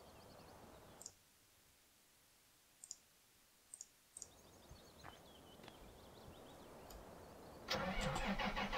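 A general-use truck engine starts in Farming Simulator 15: scattered clicks over quiet, then a cranking rumble building toward a loud, close engine catch at the end.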